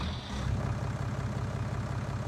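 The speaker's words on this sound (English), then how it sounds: "This is a monster of a tractor." Big 260-horsepower 926 tractor with a front loader idling in Farming Simulator 19, a steady low rumbling drone with a pulsing throb, close and unbroken.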